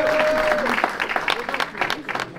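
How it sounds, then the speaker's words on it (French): Applause from a crowd at an MMA fighter presentation ahead of a bout at the Zénith, building into dense clapping after a brief tone, with some crowd voices mixed in. "On peut l'applaudir"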